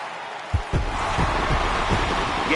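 Home crowd in MLB The Show baseball video game swells into steady cheering after a sudden thump, a broad sustained roar of many voices with rhythmic pulses, close and fairly loud throughout.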